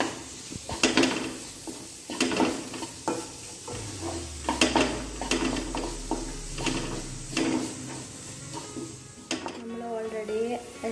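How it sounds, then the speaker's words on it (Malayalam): Tomato, curry leaves and green chilli are stirred in a pan for a beef snack filling, with repeated scraping strokes and soft sizzling up close, a low hum, and a voice talking over parts. "തക്കാളിയും കറിവേപ്പില, പച്ചമുളക് ഇതൊക്കെ കൂടിയിട്ട് നമ്മൾ മിക്സ് ചെയ്യാണ്"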